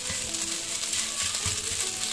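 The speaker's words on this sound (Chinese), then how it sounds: "捣成鱼蓉之后，我们要不停地给它翻炒，一定要给它不停地翻炒" Minced crucian carp is stir-fried nonstop in a wok, a constant loud sizzle broken by repeated scraping strokes of the spatula.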